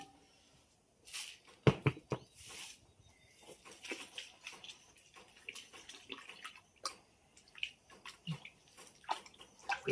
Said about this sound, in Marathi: हे शेण थोडं थोडं थोडं थोडं पाण्यात मिक्स करून टाकायचं